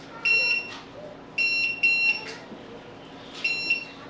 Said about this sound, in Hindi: ये जो आवाज़ है बेसिकली इंडिकेशन कि आप स्टार्ट बटन प्रेस करो